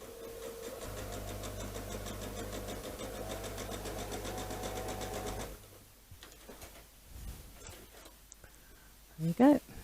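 A sewing machine stitches a quilt block seam, running steadily with a continuous mechanical whir for several seconds before stopping, followed by quieter handling noises and a short burst of sound at the end.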